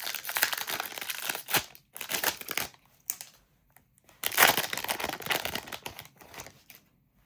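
A 2024 Topps Chrome or 2025 Bowman Chrome trading card pack crinkles and tears open in close, bursty handling sounds with brief pauses between rips.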